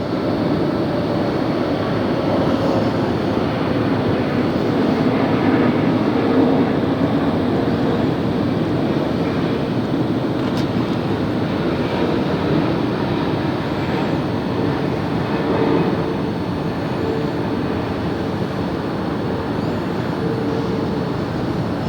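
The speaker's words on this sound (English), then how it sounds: "look at that remarkable landing" Jet airliner landing at LAX, heard from a nearby hotel as a steady, loud, broadband engine roar that holds for over twenty seconds with no talk.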